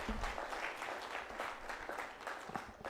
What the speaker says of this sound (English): Another round of applause to Martin Kimani.